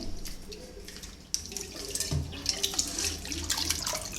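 Water poured from a vessel into a pot of hand-mashed tomatoes with salt for Tamil tomato rasam, a steady splashing pour close by with a brief low thud midway, no talking.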